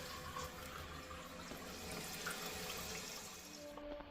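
Toilet tank refilling with water after a universal flapper replacement and chain adjustment: a steady, close rushing and trickling of water running continuously, fading near the end.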